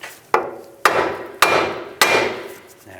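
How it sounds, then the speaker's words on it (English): Four sharp metallic hammer taps on a ball joint of a 2005–2015 Nissan Xterra ring out at a steady pace, each strike close and crisp with a brief ringing decay. "with a hammer."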